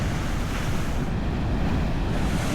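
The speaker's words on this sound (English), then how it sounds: "It's interesting to see how the waves are just coming" Atlantic Ocean waves wash onto the shore as wind buffets the microphone, making a constant broad roar with no distinct breaks and no voices.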